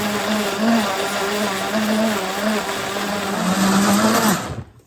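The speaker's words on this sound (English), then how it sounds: "I'm going to blend the dry ingredients with the wet" An electric blender whirs steadily as it mixes dry and wet chocolate cake ingredients, a loud even motor drone with a slight rise toward the end before cutting off abruptly.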